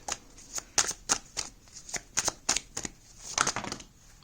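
Tarot cards being shuffled by hand during a reading, a close series of crisp riffling bursts and soft slaps in an irregular rhythm, heard alone with no talking.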